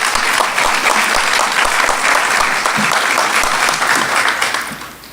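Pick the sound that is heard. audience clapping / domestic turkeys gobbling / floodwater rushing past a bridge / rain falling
audience clapping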